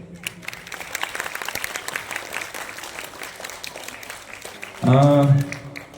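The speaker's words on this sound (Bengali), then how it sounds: "ওদের জন্য একবার জোরে হাততালি।" An audience claps for children at a school annual program, dense overlapping applause swelling and fading over several seconds, followed by a loud sustained tone near the end.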